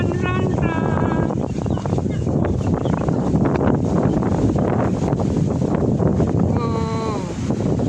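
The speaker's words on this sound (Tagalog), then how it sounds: "Malamig ang simoy ng hangin." Steady outdoor wind rushes and buffets the microphone in a continuous roar, while people talk over it in short bursts near the start and end.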